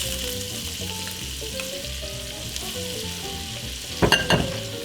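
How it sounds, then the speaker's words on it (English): Steady sizzling of butter frying in bacon fat in a pan, with a soft tonal hum in the background and a couple of brief scraping clatters near the end. "This is that sizzle"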